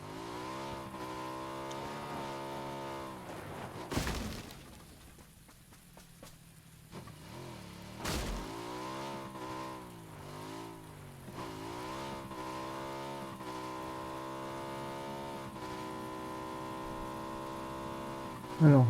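A motorcycle in the PUBG video game, its engine revving loud and close as a strong, harmonic drone that rises and falls over and over, broken by two sharp bursts and a short quieter gap. Some faint talk can be heard beneath it.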